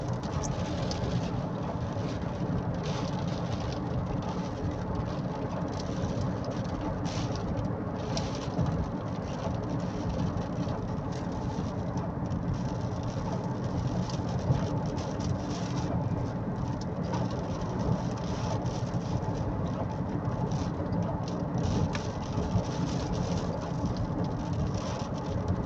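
Steady, loud rain pours without letup through a heavy rainstorm, a dense broadband hiss of drops on surfaces, with faint bird calls mixed in and no distinct thunder clap standing out.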